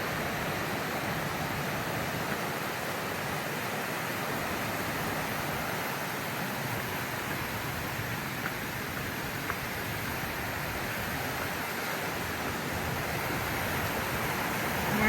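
A creek runs along a rocky camping area, its water rushing in a steady, broadband wash that stays even and fairly faint, with no voices over it.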